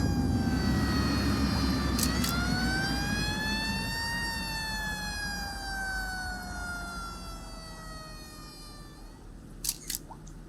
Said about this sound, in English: a building has collapsed and a fire engine has been dispatched